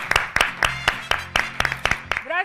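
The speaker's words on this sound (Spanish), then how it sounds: "Pues con este aplauso nos vamos contigo, Ceci" A handful of people clapping in a regular rhythm, close and crisp, ending with a brief voice at the very end.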